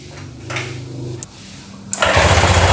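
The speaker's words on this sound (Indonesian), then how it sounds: "Nah, ini motor hidup." A Honda Vario 150 motorcycle engine catches after a kick start, with a quieter mechanical idle first and then a loud, steady running engine over the final second.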